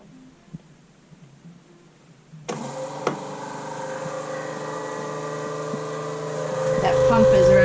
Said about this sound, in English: That pump is running.